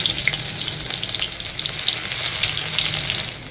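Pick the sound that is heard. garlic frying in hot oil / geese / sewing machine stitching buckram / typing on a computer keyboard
garlic frying in hot oil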